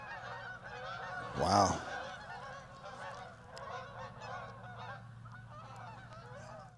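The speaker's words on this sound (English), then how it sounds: "geese flying right on top of the mill." Geese honking as they fly right over a historic tidal mill at Poplar Grove in Mathews, Virginia: a loud close burst of honks early on, then fainter calls carrying over steady background, with a brief exclamation from a person.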